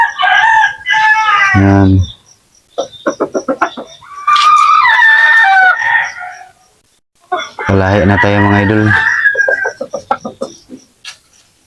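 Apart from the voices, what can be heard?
native chickens clucking and rooster crowing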